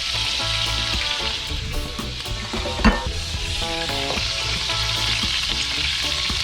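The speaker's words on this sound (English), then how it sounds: "we are gonna try and sort of baste the skin with some hot oil to try and crisp it up" Steady loud sizzling of duck skin being basted with hot oil, close up, with a continuous crackle and occasional spatter.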